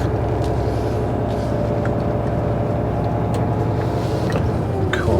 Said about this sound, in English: I'm going to park on the left here where them trailers are